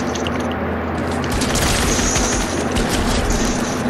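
Rapid gunfire from a spam gun in the Fortnite video game rattles in a dense, continuous burst, loud and close, with no talking over it.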